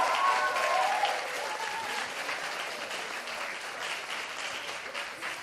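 A seated crowd at a stats finale show applauds its stage presenters, a broad, sustained wash of clapping that holds steady and tapers slightly over several seconds, with a faint voice briefly audible at the start.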